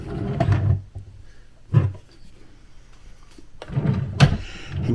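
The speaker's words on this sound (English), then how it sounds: "These just roll over the top and then the drawer slides up and goes right on in." A desk drawer rolls on its rollers and slides shut, giving three separate bursts of rumbling and knocking, each followed by quiet.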